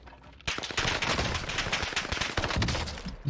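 A sustained burst of rapid automatic gunfire from a BAR rifle in the shooter video game Warzone Pacific, loud and continuous after a brief quiet start, no voices.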